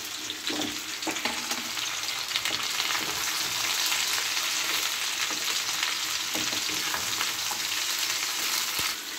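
A whole eggplant, cut up, frying and being stirred in a pan for a vegetarian Bengali pui shak chorchori, with continuous dense sizzling and occasional scraping stirs, close and steady throughout.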